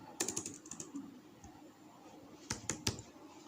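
Keys on a computer keyboard clatter quietly while Python code is typed, a short burst of quick clicks, a pause, then another small cluster of taps, close and faint.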